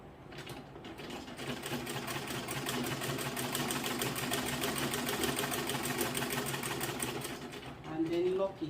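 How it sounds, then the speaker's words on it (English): A sewing machine stitches skirt fabric with lining along a dart, running in one steady, continuous whir of rapid mechanical ticking for most of the stretch, close and fairly loud. "And then continue your sewing."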